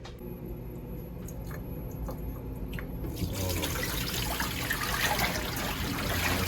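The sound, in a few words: water leaking out of 3D printed dumbbell handle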